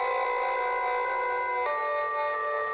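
A harsh, sharp digital bit bass synth patch sustains steady bright buzzing tones, then jumps to a new pitch partway through, played alone with no voices.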